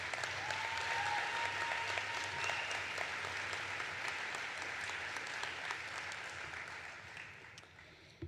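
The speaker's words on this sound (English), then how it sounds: "Let's also give a round of applause to these dedicated recipients." Sustained audience applause for award recipients at a spring nursing pinning ceremony, dense steady clapping that gradually fades over several seconds, with no talking.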